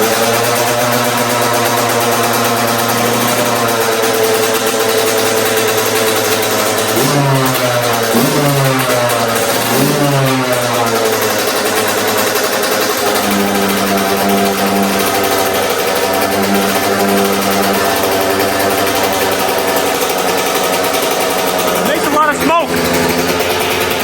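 A kick-started motorcycle engine runs steadily with a loud buzzing drone, its pitch briefly rising and falling in a few revs partway through, close to the listener, while someone talks over it.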